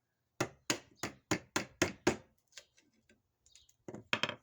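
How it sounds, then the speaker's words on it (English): A 1/4-inch chisel cuts an old tenon out of a Chippendale chair joint, giving seven quick, crisp taps in a steady rhythm, then a few faint scrapes and two more close knocks. "I'm just taking out this old mortise, or this old tenon. And I'm using an undersized 1/4-inch chisel to do this"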